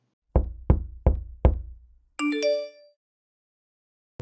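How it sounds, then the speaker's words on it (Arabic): Four sharp knocks on a door in quick succession, close and loud, followed by a short bright chime from an iPhone alert responding to the knocking. "أنا مفعل دور نوك إنه يقدر يتعرف على صوت الخبط في الباب"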